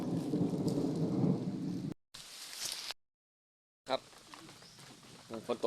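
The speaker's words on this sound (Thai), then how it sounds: "ฝนตกแล้ว ครับฝนครับ" Rain pours and thunder rumbles during an evening storm in rural Isan, Thailand, a heavy dense wash that cuts out abruptly twice, with someone talking over the downpour and faint birds nearby.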